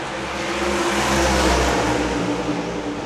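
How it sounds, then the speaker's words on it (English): A NASCAR race car engine at the Le Mans 24-hour race drones loud and steady, a low growling tone holding for a few seconds without talk. "that's a NASCAR, the one and only NASCAR in the race, which just sounds better than everything"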